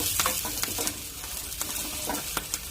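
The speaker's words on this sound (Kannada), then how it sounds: "ಫುಲ್ಲು ಇದು ಗೋಲ್ಡನ್ ಬ್ರೌನ್ ಆಗೋ ತಕ್ಕ ಹುರ್ಕೊಳೋಣ ಇಷ್ಟು ಇಷ್ಟು ಫ್ರೈ ಆಗೋವರೆಗೂ ಚೆನ್ನಾಗಿ ಹುರ್ಕೋಬೇಕು" Ingredients for a village-style chicken sambar masala frying in a pan until golden brown, a steady soft sizzle with occasional stirring scrapes and clinks throughout.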